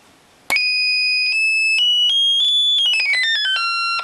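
A Dubreq Stylophone Gen X-1 at full volume gives piercing, high-pitched buzzy tones, a string of held and stepped notes climbing then sliding down, loud and close with no talking.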